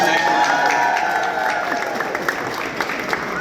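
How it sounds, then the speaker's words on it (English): Audience applause in a lobby gathering, a steady wash of clapping with some crowd noise, fairly loud and continuous throughout, with faint voices mixed in. "So give them a round of applause again"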